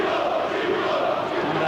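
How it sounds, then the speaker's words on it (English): A football crowd at a Liverpool versus Bradford City Premier League match booing a player taking a corner, a dense, sustained roar of many voices, loud and steady, with no single voice standing out. "They're booing him as he's gone across to take the corner."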